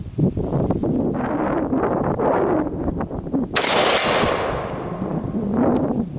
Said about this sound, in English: Nothing like shooting steel.